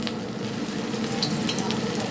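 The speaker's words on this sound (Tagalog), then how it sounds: "init na ang atong oil. Mag-prito na ta." Steady crackling sizzle of chicken fillet frying in hot oil, close and continuous, with no voices.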